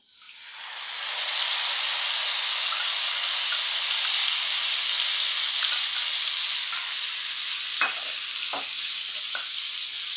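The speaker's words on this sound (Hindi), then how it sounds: "राई चटकने लगा अब इसमें हम जो दही में मसाला को मिलाए थे उसे डाल देते हैं" Yogurt and spice mix hitting hot oil with crackling mustard seeds in a pan for a potato curry, a loud sustained sizzle that settles into steady frying hiss with a few sharp pops.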